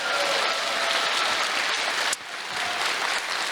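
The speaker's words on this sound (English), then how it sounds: "Give a big hand of applause," A large crowd at a NordicFuzzCon 2024 opening ceremony applauds Daniel and Jesper in a dense, steady roar of clapping that dips sharply near the end, then carries on a little quieter.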